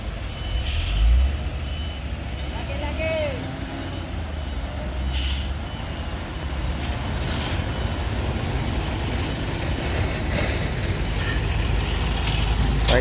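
A Mitsubishi Fuso tanker truck struggles on a steep uphill, with loud low engine rumble, hissing air-brake bursts, mechanical clanks and a reversing beeper as it rolls back, heard close alongside continuous traffic noise.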